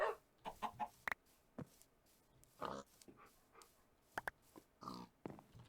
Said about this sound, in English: What kind of chicken are you? A sand chicken.